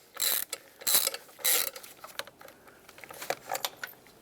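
A socket wrench with a swivel loosens the engine coolant temperature sensor on a 2014-2021 Mazda 6, giving several short, close bursts of ratcheting clicks followed by lighter scattered ticks, with no talk.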